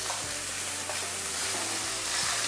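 Ground shallots frying in oil, a dense continuous sizzle filling the whole stretch with faint stirring clicks underneath, close and steady.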